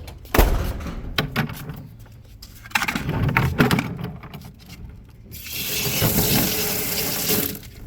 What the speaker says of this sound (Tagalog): So yan, lagyan natin ng tubig, bagong tubig